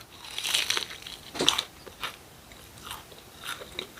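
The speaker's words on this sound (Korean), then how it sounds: "굉장히 바삭바삭하고 맛있어요." Someone bites into and chews crunchy, crispy food close up, a few sharp crunches followed by softer intermittent chewing sounds, with no talking.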